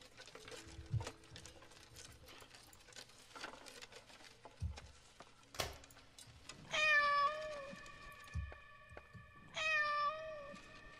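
A cat meows inside the Layers of Fear: Inheritance horror game, two drawn-out, clear meows near the end following scattered soft thumps and footstep-like taps.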